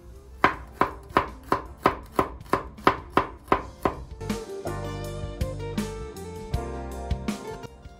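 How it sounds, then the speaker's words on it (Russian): A knife finely chops garlic on a cutting board, about a dozen evenly spaced crisp taps, followed by a softer, busier stretch of kitchen clatter. "Чесночок почистили. И теперь мелко нарежем его."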